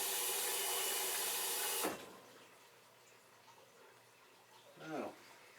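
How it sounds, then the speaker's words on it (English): Cold water runs into a wheat beer glass as a steady, close hiss of splashing for about two seconds, then cuts off, followed by quiet handling and a faint clink. "I haven't used this one in a while, so I'll give it a quick cold water rinse."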